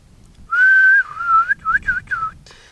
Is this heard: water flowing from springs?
no